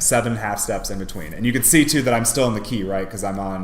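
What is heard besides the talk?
No distinct noise like a dog, phone or traffic.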